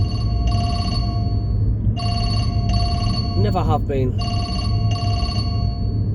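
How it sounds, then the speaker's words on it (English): A mobile phone rings in repeated electronic trills, loud and steady, while a person talks briefly between the rings. "Somebody's trying to ring my phone there."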